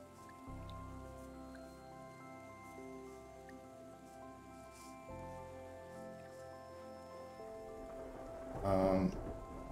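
Gentle rain ambience in the video game Terra Nil, a soft steady patter of drops under a faint low tonal backdrop, with a brief louder burst near the end.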